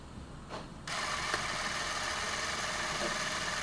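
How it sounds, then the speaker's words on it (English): A ZC 1000 film camera with a shutter fault runs at 18 frames per second, a steady whirring mechanical buzz that starts abruptly after a brief click and continues evenly, close up. "Let's push the shutter button."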